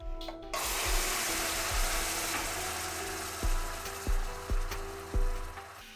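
Water poured into a steel pot of burnt, browned sugar for a simit syrup, giving a continuous hissing sizzle with bubbling and a series of hard metallic clunks and knocks toward the end.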